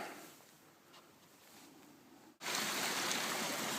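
A small stream at a winter backpacking campsite water source trickles softly, then jumps to a louder, close rushing flow partway through.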